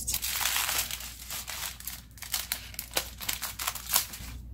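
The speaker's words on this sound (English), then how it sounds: "When you open the foil, you should see your sedimentary Starburst." Aluminum foil is unwrapped from a Starburst candy rock model with close, crisp crinkling and crumpling in uneven bursts. It is quiet, with no talking.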